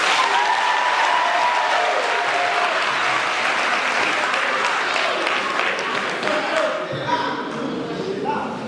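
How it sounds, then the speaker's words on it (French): Loud, dense audience applause at a theatre ceremony, sustained crowd clapping throughout with a few voices mixed in. "Et ça, vous avez réussi, applaudissez pour vous."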